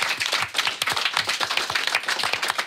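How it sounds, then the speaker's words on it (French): An audience claps for schoolchildren, a lively patter of many separate hands at close range, fairly loud and uneven, with no talk over it. "Ça serait bien de vous applaudir les enfants"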